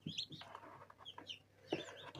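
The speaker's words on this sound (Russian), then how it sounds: "вытащила этих двух цыпок, чтобы они мне тут не кричали в яйцах" Two newly hatched chicks from a plastic mechanical incubator give high, thin peeps in short scattered bursts at night, close by and fairly faint.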